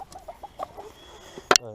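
Several short, soft hen clucks sound close by, followed by a sharp, louder squawk near the end.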